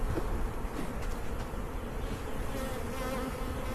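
Honey bees buzz in a dense, steady swarm drone while a spring hive is being split, loud and close throughout without a break.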